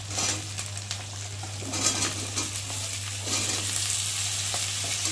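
Potatoes fry together with spices in hot oil, giving a steady close sizzle with scraping stirs and light utensil clinks against the pan, over a low constant hum.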